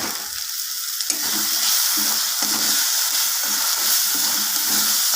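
Rohu fish curry masala with chopped coriander leaves being stirred in a hot pan, a loud continuous sizzle and hiss broken by repeated scraping strokes of the spoon, close up and with no voices.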